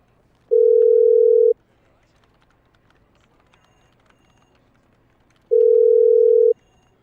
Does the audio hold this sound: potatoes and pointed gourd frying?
no